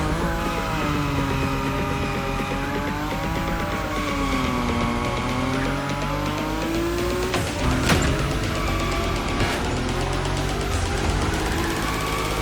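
A Nissan Nismo sliding sideways at high speed in the racing game The Crew Motorfest, a loud sustained engine whine with shifting pitch under continuous tire squeal, rising to a brief harsher burst midway.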